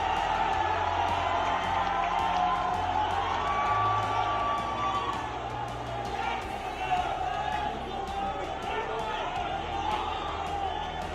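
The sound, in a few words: crowd applause and cheering at political rally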